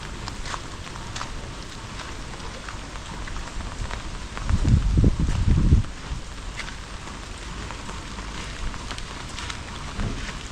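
Rain falls in a constant soft hiss, with a brief low gusty rumble about halfway through before the patter settles again.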